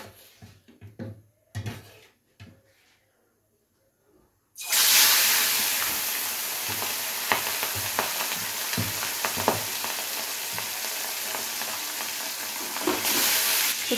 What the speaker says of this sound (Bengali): সমস্ত মাছ আমার ভেজে নেওয়া হয়ে গেছে